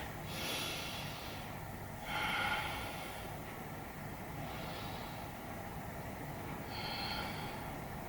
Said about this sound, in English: let's take 3 deep breaths